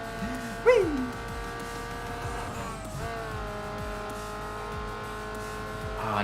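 An upgraded race car engine in Need for Speed Underground 2 holds a steady high whine, with repeated gear-shift dips, a brief sharp squeal near the start and faint talk underneath.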